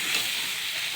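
Brief, steady sizzle of turmeric and spices frying in hot oil with whole cumin, a close bright hiss lasting about a second.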